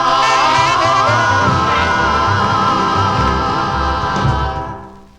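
A 1957 doo-wop record on the Atomic label plays loud and dense with sustained harmonized voices over the band, then fades out at the end.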